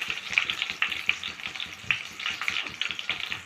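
Curry leaves fry in hot oil for a tempering, with a close, continuous crackling sizzle broken by sharp pops and spits, and no talk over it.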